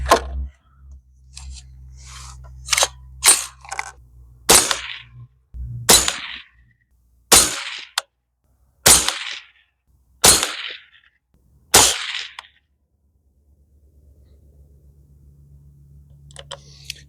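Nine sharp .22 Magnum rifle shots from a Bear Creek Arsenal upper firing Remington Premier 33-grain AccuTip rounds, loud and close, spaced a second or two apart, each with a brief outdoor echo, then quiet.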